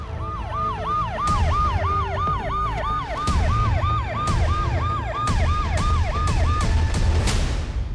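Police siren wailing in repeated rising and falling sweeps as police arrive, loud and close, with other sirens layered over a low engine rumble and sharp clunks.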